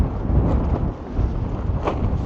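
Steady, loud wind buffets the microphone outdoors beside an Adventurer 86FB truck camper, a dense low roar that gusts and surges without pause.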